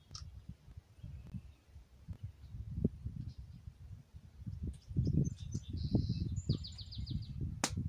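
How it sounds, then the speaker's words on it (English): Faint bird chirps and short calls scattered over a low rumbling background, with a few brief high tweets near the end. "Even though it's supposed to storm, the birds are chirping away tonight"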